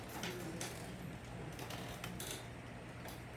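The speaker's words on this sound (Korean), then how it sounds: "선풍기 소리에 귀를 기울이면 그 사이는 안 들리던 선풍기 소리가" An electric fan runs indoors with a steady, soft whir and a low hum, continuous and fairly faint throughout, with no voices.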